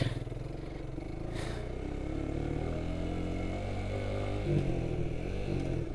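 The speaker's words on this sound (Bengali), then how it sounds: "গাড়ির ইঞ্জিনের সাউন্ডটাও খুব বেটার হয়ে গেছিলো" A motorcycle engine hums steadily at cruising speed, a close, constant drone with faint rattles, no talking.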